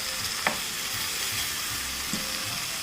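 Tandoori masala chicken fries in a pan with a steady close sizzle, and a couple of sharp knocks sound as the pieces are turned over.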